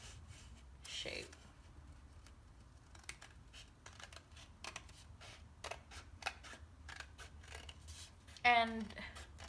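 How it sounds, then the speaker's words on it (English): Scissors snip through paper while a leaf shape is cut for a free-standing paper rose centerpiece, giving a run of short crisp clicks and cuts close to the mic, with brief speech between them. "And we are going to cut a leaf"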